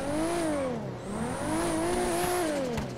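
Toyota Supra engine in GTA 5 revving loudly and continuously, rising and falling in pitch over a few seconds with a brief dip in the middle, heard alone without talk.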